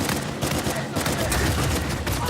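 Rapid bursts of gunfire in an Uncharted 4 multiplayer match, a dense continuous fusillade of shots close by with a faint voice underneath.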